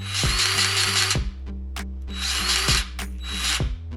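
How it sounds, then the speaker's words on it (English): A Bauer 20V cordless grease gun pumps grease in three close, whirring motor bursts. Each burst is separated by brief pauses with small mechanical clicks. "Let's grease this up. Got the Bauer 20 volt here. Oh, there's grease coming out there already."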